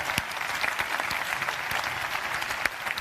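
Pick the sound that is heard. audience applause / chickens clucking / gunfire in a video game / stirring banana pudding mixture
audience applause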